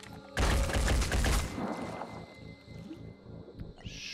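Heavy gunfire from the Phoenix Point video game bursts in as a dense, loud volley of rapid shots, then thins into scattered echoing blasts and rumble that tail off over several seconds.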